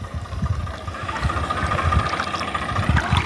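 A tractor engine idles with a low, throbbing rumble and vibration while stuck in deep water, heard nearby and steady throughout.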